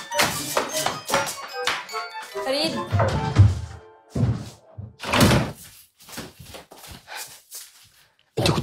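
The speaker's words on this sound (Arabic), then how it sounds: "صوت الباب ده مراتي" Dull thunks and knocks of a door opening as someone comes into a home, heard amid conversation, with several thuds scattered between voices.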